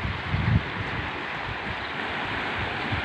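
Sea waves surge and wash out at sea, a steady broad roar with heavy wind buffeting the microphone.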